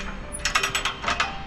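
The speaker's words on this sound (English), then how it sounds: "So now it's a crank. So crank it." A hand crank ratchets to tighten a volleyball net on a full court setup, a quick run of about eight crisp, close clicks in an uneven rhythm.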